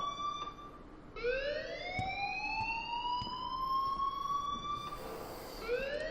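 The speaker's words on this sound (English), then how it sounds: "please turn off that alarm since that's your job." A school alarm wails in the video game Life is Strange, a continuous rising siren tone sweeping upward in long cycles, moderately loud and alone with no talk.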